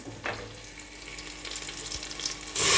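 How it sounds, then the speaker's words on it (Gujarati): Soft frying and stirring sounds, then a sudden loud burst of sizzle near the end as water is added to a hot pan of stuffed drumstick curry. "આમાં પાણી ઉમેરી દેવાનું"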